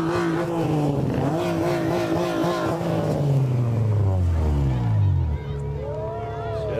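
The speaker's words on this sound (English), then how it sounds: "I love the old Chevelles, and here they come" Classic Chevrolet Chevelle cars rumble past during a parade, a loud V8 engine note rising and then sliding down in pitch as a car passes close by, with a second engine revving after it over crowd noise.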